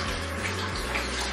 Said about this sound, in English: we are going to wash this out with cold water